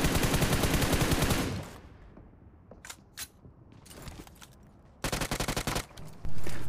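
Automatic gunfire in PUBG Mobile, played on a Poco X3 Pro, comes as a long rapid burst and then sporadic single shots and clicks. A second sharp burst and a louder blast follow, with no voices.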